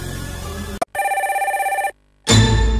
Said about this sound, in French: Allô, allô, allô, allô, allô, téléphone.